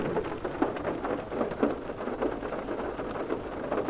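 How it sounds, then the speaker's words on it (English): Morning rain falls outdoors on the Isle of Man, a steady close patter and hiss with irregular heavier drops throughout, no talking. "Can you hear the rain this morning?"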